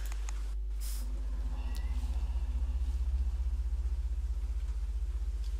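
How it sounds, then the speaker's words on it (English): A skip truck being moved outside a room makes a low, pulsing engine rumble that throbs steadily and is muffled, as if heard from indoors, with no talk over it. "we got someone outside putting a dumper truck out"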